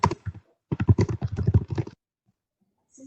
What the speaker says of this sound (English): Somebody may be typing without